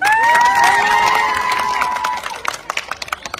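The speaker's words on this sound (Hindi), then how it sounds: "अच्छा भाई आप सब अपने लिए पहले एक बार तालियां बजा दें" A crowd of women at a governor's house gathering claps and cheers, with a burst of loud applause and shouts at first, a sustained whistle-like tone, then fading into scattered individual claps.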